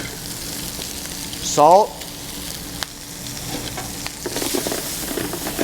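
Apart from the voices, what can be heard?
garlic and shallots sautéing in a pan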